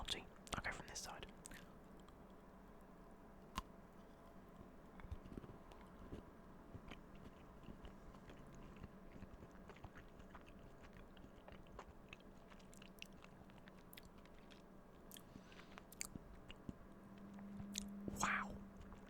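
Crunchy, nutty Thorntons chocolate chewed close to the mic in soft, irregular bites over quiet room tone, with a brief whisper near the end.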